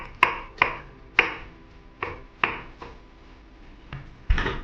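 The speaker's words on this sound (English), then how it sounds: "Have a rough chop of some garlic," Garlic roughly chopped with a knife on a board for General Tso's tofu: about eight crisp, close knocks at an uneven pace, clean and alone with no talking.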